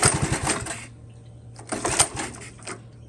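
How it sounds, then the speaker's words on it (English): Honda ATC 110 three-wheeler engine cold-starting: bursts of uneven sputtering close up, struggling to catch, with a steady low idle hum running between the bursts. "here's a cold start. You can tell, like, this is obviously a cold start."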